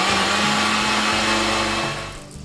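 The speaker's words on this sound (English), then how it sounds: "Now we're gonna go ahead and blend." Blender whirring through tomatillos, serrano chilies, tomato and garlic, a loud steady motor roar that fades out near the end.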